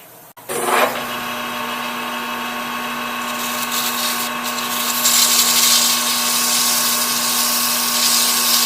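Sandpaper rubbing against a cast iron handwheel, a steady close abrasive hiss that starts after a brief clatter and runs continuously, growing slightly louder and brighter toward the end.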